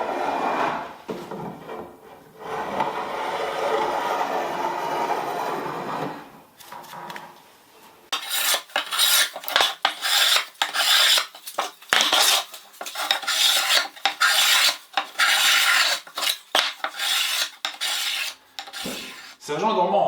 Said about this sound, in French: Un petit coup de rabot de paume pour casser les arêtes avant de passer au traitement et au montage